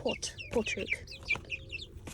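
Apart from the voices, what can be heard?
cockerel clucking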